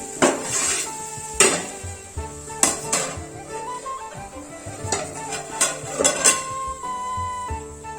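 Metal pots and bowls clank and knock in a home kitchen during gongura pachadi preparation, with a string of sharp, close impacts and scrapes scattered across the clip, some ringing briefly.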